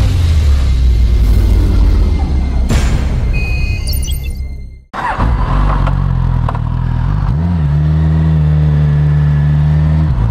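Suzuki 1000 motorcycle engine turning over with a loud, rough roar, cutting out briefly near the middle, then firing again into a steady, strong idle with a rising rev toward the end, heard up close with no talk.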